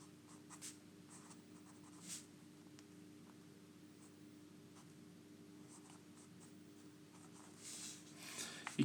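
An algebra solution written out by hand, soft scratching strokes in short bursts over a low steady hum, close and quiet, with no talking.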